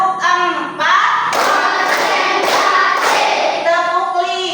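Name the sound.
rhythmic hand clapping of the tepuk fokus clap game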